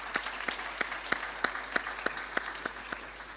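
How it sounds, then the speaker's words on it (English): Applause for panelists at an urban forum in Azerbaijan, a small audience clapping in sparse, distinct rhythmic claps rather than a dense roar, fairly quiet and steady throughout. "let's give the big applause to our panelists"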